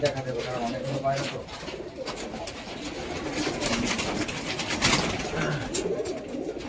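Domestic flying pigeons cooing in repeated low, throaty phrases while someone talks over them.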